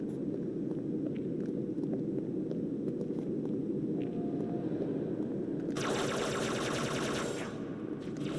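Continuous heavy gunfire from a Halo 2 match, dense automatic bursts rolling without pause for several seconds, with a bright, crackling burst of shots near the end, loud and close with no talking.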